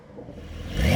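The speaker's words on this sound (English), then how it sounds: "Let's give it some revs." Porsche 992 Carrera with its 3-liter engine and sport exhaust revving up close, a single rising surge of engine note climbing steadily in pitch and loudness over about a second.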